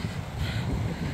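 Morning wind blows across an open park, a steady broadband rush with low rumbling buffeting close to the microphone, alone without voices.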